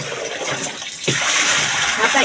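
Laundry rinse water splashes and sloshes loudly in a basin, a close continuous splatter that swells after a brief dip, with a voice talking over it.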